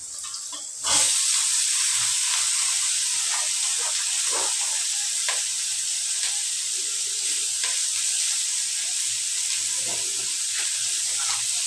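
Boiled bottle gourd greens hit a hot wok with onion and break into a loud, steady sizzle and hiss that carries on evenly, close by and with no voices.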